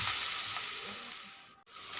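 Chopped onion and chili sizzle steadily in a hot pan, a soft continuous crackle with a brief break near the end.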